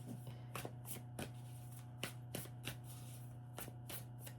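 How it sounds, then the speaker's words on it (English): Tarot cards are shuffled close by in a series of quick riffling bursts and soft flicks, with a low steady hum underneath. "I'm going to shuffle one more time"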